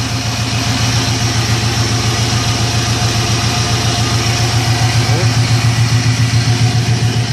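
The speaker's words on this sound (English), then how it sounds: "These engines run like they're fuel injected. They're both carbureted." Two carbureted boat engines idle steadily in gear with a low, even rumble and throb, close by, while someone talks over the running motors.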